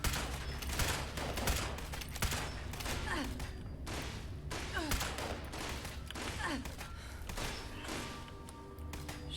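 Gunfire in the post-apocalyptic shooter Fallout 76, a dense run of rapid shots and thudding impacts packed close together for nine seconds, steady and fairly loud throughout.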